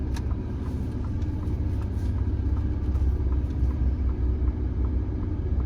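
A Ford Ranger Raptor V6 pickup engine runs steadily while driving, a smooth, continuous low rumble close up inside the cabin with no talk.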